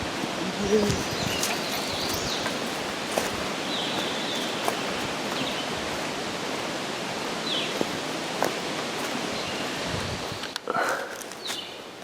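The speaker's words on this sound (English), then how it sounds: "The wind blowing through the trees, dude." Wind gusting through trees on a high mountain picnic spot, a steady broad rush filling the whole stretch with a few faint bird calls and brief bumps near the end.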